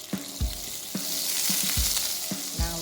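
Butter sizzles in a pan for white sauce, a close, steady frying crackle punctuated by several low thuds and clinks of a utensil against the pan, with no voices.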